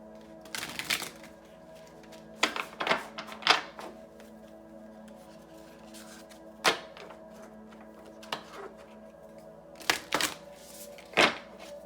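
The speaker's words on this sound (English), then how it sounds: "I have shuffled these cards so many times today for y'all." Tarot cards are shuffled and riffled in scattered bursts, with crisp flutters and taps separated by quiet pauses, close and fairly soft.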